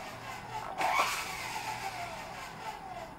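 An MJX T-10 RC helicopter flies indoors with its small motor and rotor whirring steadily nearby, swelling briefly louder as it moves, over a low background hum from an air conditioner.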